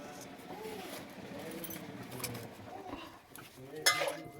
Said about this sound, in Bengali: এখন আমি উনুনে কড়াই বসাবো।